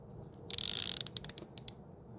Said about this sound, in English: when you're turning the ratchet, you want to make sure you're going towards the left or counterclockwise